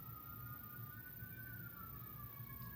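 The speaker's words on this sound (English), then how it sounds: "That's a siren you can hear in the background." A distant siren wails faintly in the background, its pitch slowly gliding, over a low rumbling hum.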